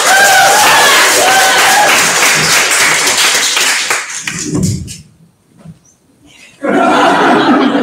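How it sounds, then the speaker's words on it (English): A book launch audience breaks into loud applause and cheering for several seconds, the clapping fading and stopping before a short burst of crowd noise returns. "Round of applause!"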